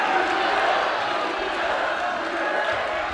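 A home crowd cheers and murmurs at a varsity boxing match, a continuous noisy swell of voices filling the hall, with commentary talk over it.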